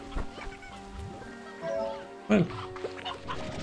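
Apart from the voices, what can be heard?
chicken clucking in video game Slime Rancher 2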